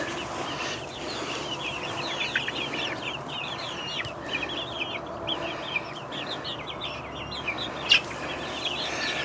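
Backyard egg-laying hens, mostly dual-purpose breeds, cluck and chatter steadily in a dense overlapping flock, with repeated short calls over constant outdoor background noise.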